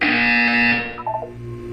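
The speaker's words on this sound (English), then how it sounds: "You will hear a buzzer." A loud electronic buzzer in the video game Portal 2 drones for most of a second, then cuts off into a few short descending beeps.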